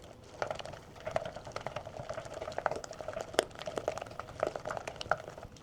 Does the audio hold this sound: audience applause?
no